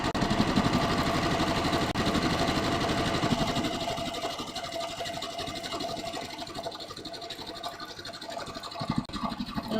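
A sewing machine stitches a scrap of fabric with a fast, steady mechanical chatter, loud and close, easing slightly in intensity partway through and running without pause.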